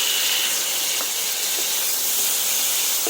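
Chopped tomatoes hit hot oil with black cumin, giving a loud, steady broadband sizzle and hiss that holds for the whole stretch with no talk over it.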